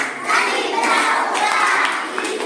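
A group of children clapping along during a classroom rhyme activity, a steady, dense patter of small hands that stays fairly even and close throughout.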